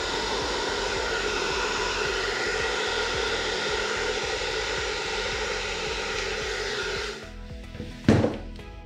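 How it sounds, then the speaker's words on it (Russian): A hair dryer used for fluid art painting blows with a steady, loud whirring hum, then its pitch drops as it's switched off, followed by a brief clunk. "можно вот зажать фен рукой, если воздух только не горячий"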